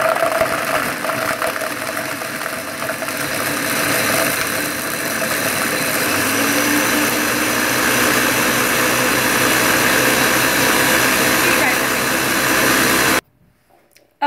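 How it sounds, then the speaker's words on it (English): A blender whirs continuously as it blends a chocolate protein shake. The motor hums loudly and steadily for about thirteen seconds, then cuts off abruptly into near silence. "I'm gonna stick this blender in front of you guys so you can actually watch it go."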